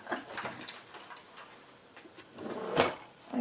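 A drawer is opened while someone searches for sandpaper during a polymer clay box project, giving a few close wooden slides and clunks with soft knocks, spread over a few seconds with no talking.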